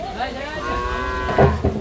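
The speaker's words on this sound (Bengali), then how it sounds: "এখানে অলরেডি দেশের নানা প্রান্ত থেকে আসতে শুরু করেছে গরু।" At the Gabtoli cattle market, a cow lets out a long, drawn-out moo close by, followed by a brief louder burst of market commotion and people talking in the background.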